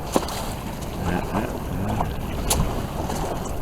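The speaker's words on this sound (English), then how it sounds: "A bit of wind." Wind rushes past on a sailing boat heading out from Ham toward Sandbanks, a steady breezy hiss mixed with water movement, with a few brief knocks and clatters near the microphone.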